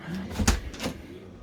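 A cupboard door in a Benimar Tessoro 483 motorhome opens or closes with a couple of soft, close knocks over a quiet room tone.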